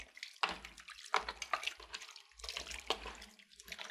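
Warm water splashes and pours in uneven bursts as feet are rinsed during a pedicure, close and fairly quiet, with no talking.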